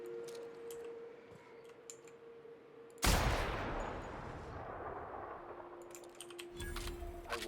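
A player's gun firing in The Outer Worlds, opening with a sudden loud blast around the middle that decays into a noisy burst, with quieter clicks and game sounds before and after.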